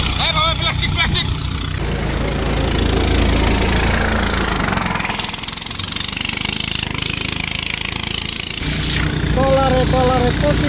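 A trawler boat's engine chugs and knocks loudly and continuously during a boat race, with voices shouting over it and splashing water noise.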